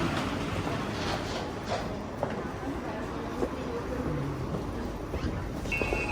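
A steady rumbling S-train in Copenhagen runs throughout, with occasional light clacks and knocks over the continuous mechanical noise.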